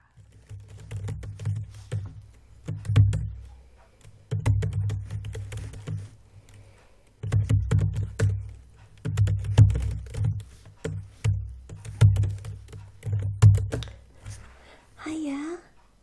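Fingers tap out an email on a computer keyboard in bursts of soft, close clicking separated by pauses, with a hushed voice briefly heard near the end.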